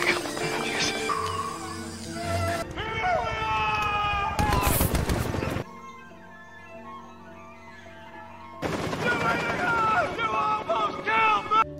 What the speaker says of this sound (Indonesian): Tapi naasnya dua helikopter itu malah menembaki Dieter karena dianggap musuh.